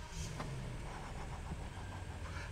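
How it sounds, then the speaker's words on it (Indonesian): A Rolls-Royce Ghost's V12 engine starts up with its door open, settling into a smooth, quiet idle: a low, steady hum with a brief starter burst early on and little noise above it. "Sekarang kita nyalakan mesin V12-nya."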